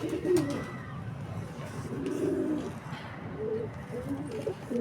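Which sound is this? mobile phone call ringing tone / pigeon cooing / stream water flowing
pigeon cooing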